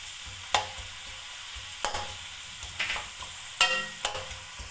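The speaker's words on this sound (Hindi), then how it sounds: "गरम ऑयल में मैंने प्याज डाल दिए हैं।" Onions frying in hot oil for aloo anda bhujia, a low continuous sizzle punctuated by a handful of sharp spoon scrapes and taps against the pan, close by.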